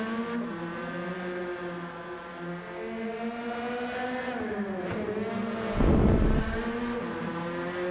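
Twingo Cup race cars lap the Nurburgring GP circuit, with a close, buzzing engine note that rises and falls through gear changes and corners, and a brief burst of louder noise near the end.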